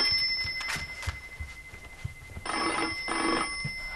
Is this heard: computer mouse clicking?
no